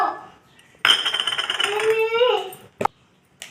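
Dried red chillies and peanuts clatter into a steel grinder jar in a single rattling pour lasting under two seconds, followed by a couple of brief knocks, with someone speaking over it.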